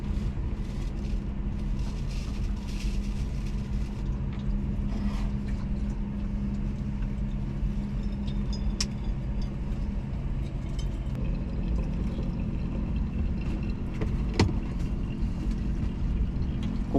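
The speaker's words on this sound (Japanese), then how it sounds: "ここは高速道路のサービスエリアなんで周りにトラックがね多いですね。" Trucks idling and rumbling at a highway service area, heard from inside a camper van as a constant low engine drone with faint distant clanks.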